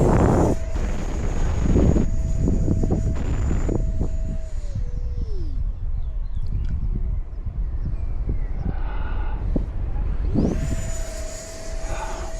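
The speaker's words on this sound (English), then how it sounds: "Again, climbing, full throttle, and that was a stall turn." An E-flite Viper 64mm EDF jet climbs at full throttle, a loud whining ducted-fan roar buffeted by wind noise that drops away and then surges back to full power near the end.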